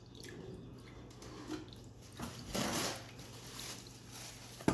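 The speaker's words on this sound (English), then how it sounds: "we're going to take our milk and we're going to pour it inside our pans" Milk is poured into a pan in a brief liquid splash that swells and fades at moderate volume over low background noise, with no speech.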